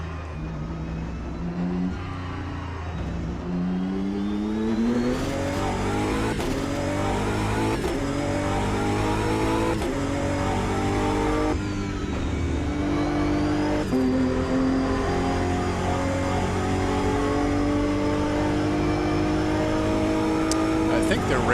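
Race car engine revving and shifting through gears at Monza in Automobilista 2, loud and continuous with rising pitch sweeps, a voice talking over it.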